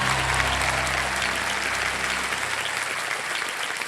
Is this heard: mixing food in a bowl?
no